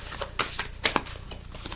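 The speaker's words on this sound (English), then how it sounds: "Let's give it a good shuffle." A deck of tarot cards is shuffled by hand, making a run of quick papery riffles and flutters in an irregular rhythm, close and fairly loud.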